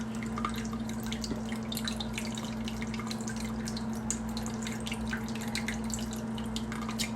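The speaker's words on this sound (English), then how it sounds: "Make sure you alkaline your water by putting these key limes in it." Key lime juice dripping and splashing into a glass of drinking water, a close run of small irregular drips and liquid patter over a steady low electrical hum, with no talking.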